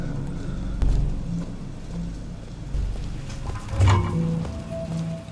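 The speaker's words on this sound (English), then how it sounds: "The rain effects look really nice." Rain falling in the video game Bioshock Infinite, a steady broadband patter with a few louder low rumbles and splashes, heard alone without talk.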